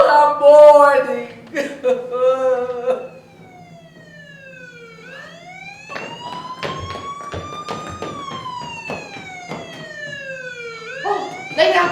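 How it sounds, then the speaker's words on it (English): An ambulance siren wails in long rising and falling sweeps, loud and close, following a brief stretch of someone speaking. "The ambulance to take you to the undertaker."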